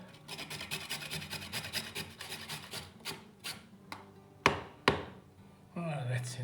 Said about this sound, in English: Finely grate at least half a carrot